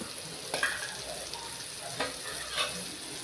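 A dosa fries in oil on a hot pan until browned on one side, giving a steady, dense sizzle close up with a few soft scraping accents.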